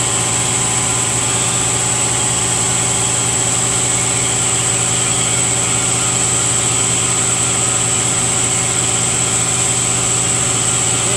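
An air compressor in a muscle-car restoration shop runs steadily throughout, a continuous loud motor drone with a constant hum and no voices.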